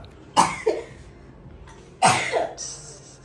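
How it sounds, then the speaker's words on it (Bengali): Two separate bouts of harsh coughing, near and fairly loud, each a sharp burst followed by a shorter second hack, from someone with a cold while cooking in a home kitchen. "এদিকে আমার অবস্থা একেবারেই খারাপ হাঁচি কাশি দিতে দিতে"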